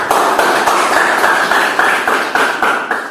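An audience claps for a speaker at a kung fu training event, producing loud, steady applause from a group close by, with sharp claps repeating at a fairly even rhythm throughout.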